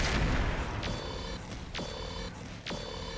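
Mech weapons firing in RogueTech, the BattleTech mod, in three evenly spaced sharp shots, each followed by a ringing electronic tone, moderately quiet over a steady background rumble.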